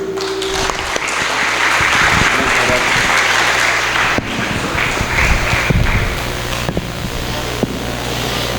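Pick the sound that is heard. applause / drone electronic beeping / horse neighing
applause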